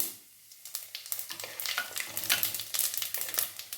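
Cumin seeds sizzling in hot oil for a Katte pongal tempering, a close crackling sizzle with rapid popping and stirring that grows busier after a quiet start.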